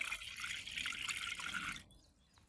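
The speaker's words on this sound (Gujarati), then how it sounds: "તો પહેલા તો મિત્રો આપણે અડધો લોટો પાણી લઈ લઈએ" Half a lota of water poured into a pot as a steady splashing stream that runs for about two seconds and then stops, heard alone.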